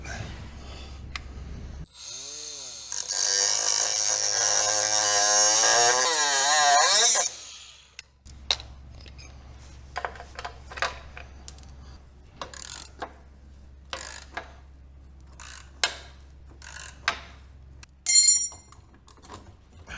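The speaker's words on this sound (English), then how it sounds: "If not, I have got the old die grinder standing by." A die grinder cuts through a rusted bolt on a Club Car golf cart, a loud sustained metallic whine with a grinding screech for several seconds, followed by quieter clanks and taps of tools and hardware.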